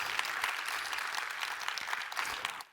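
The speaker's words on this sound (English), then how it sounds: "If we could give them a quick round of applause." An audience in a room applauds the Legal Trends Report team with a short, steady burst of clapping that fades out at the very end.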